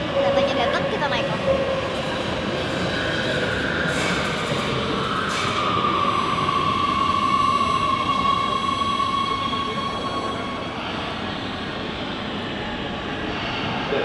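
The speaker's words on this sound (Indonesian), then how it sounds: "Untuk menuju Holmenkollen, saya hanya perlu naik kereta dari pusat kota." A train running from Oslo city centre up to Holmenkollen, a loud continuous rumble and rolling roar with a rising whine in the middle, steady throughout with no talk.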